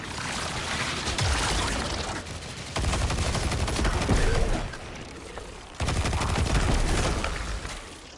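Dense bursts of rapid gunfire in the Destiny 2 video game come in three long, loud stretches of sustained shooting separated by short gaps.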